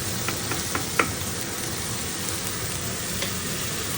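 Sirloin steak frying in a cast iron pan gives a loud, continuous close sizzle with occasional small pops and spatters.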